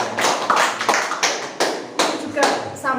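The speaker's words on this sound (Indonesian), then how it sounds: "Aplaus buat Pak Dendi" Audience applause at an office supervisor inauguration ceremony in Mojokerto, heard as a series of sharp bursts of hand clapping across the room, rising and falling in waves over a steady murmur.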